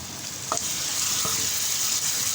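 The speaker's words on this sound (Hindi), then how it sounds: "मसाला मेरा भून चुका है और हम डालने जा रहे हैं 1 प्याली दही।" Masala fries and sizzles in a pan as a cup of yogurt is added for chicken seekh kebab masala, a steady hiss broken by a couple of soft stirring knocks, no talking.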